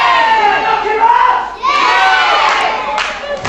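A loud wrestling-match crowd cheers and shouts continuously, with voices swelling and dipping in waves and a sharp burst of yelling near the end.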